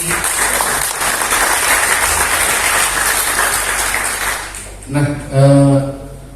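A studio audience claps loudly and continuously on an Indonesian music talk show. The applause dies down near the end, followed by a short burst of musical tones.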